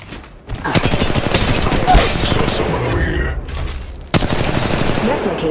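Enemy gunfire in Apex Legends Mobile, loud dense bursts of automatic shots and rapid volleys that sharply resume after a brief lull, with speech mixed in among the shots.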